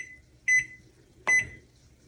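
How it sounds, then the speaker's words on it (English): An oven timer being set in a home kitchen while sourdough bread bakes gives two short, clear electronic beeps, spaced under a second apart, close and fairly loud against a quiet background. "So I'm going to set my timer."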